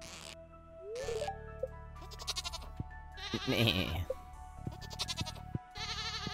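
Short, bright bleats from goats in the video game Stardew Valley ring out near and clear over game music and chimes, with a person briefly talking.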